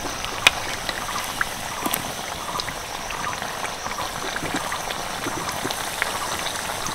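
Banana snack pieces frying in oil over medium-low heat, a steady dense crackle and patter of tiny bubbles running throughout, close and even, with a few sharper pops and no talk.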